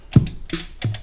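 Roland TR-8 drum machine voices triggered one at a time, giving three short, punchy drum hits with a deep low thump, spaced unevenly over about a second with no talking.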